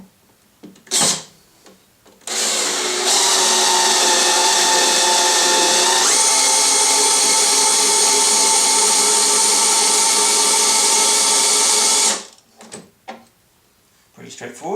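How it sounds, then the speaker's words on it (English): A cordless drill drives a jack lifting an 800 lb milling machine, whirring steadily and loudly for about nine seconds with a shift in pitch partway through, framed by clunks and brief talk before and after. "The motive power is just a cordless drill."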